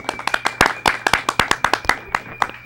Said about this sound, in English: I hear many people applauding who are not in your view